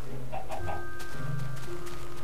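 A chicken in the video game Minecraft gives a few short clucks over a low steady game ambience, brief and fairly close.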